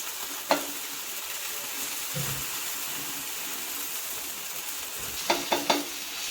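Moong uttapa batter fries on a hot pan with a constant, even sizzle, broken by an occasional clink and a quick cluster of utensil taps near the end.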